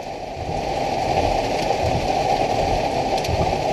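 Rain falls steadily outdoors, a constant close wash of drops and spatter that rises in the first half-second and then holds even, with no one speaking.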